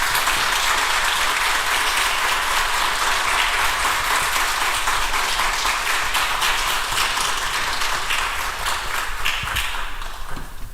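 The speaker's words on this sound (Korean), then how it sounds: "우리 박수로 우리 목사님 맞이하겠습니다" A church congregation applauds to welcome the pastor during an evening revival service, loud, dense, sustained clapping from many hands filling the hall, steady throughout and thinning slightly at the very end.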